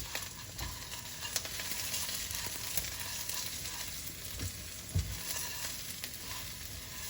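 Thin-sliced onions and yellow peppers frying in a pan for fideo, a steady close sizzle with occasional stirring knocks and scrapes against the pan.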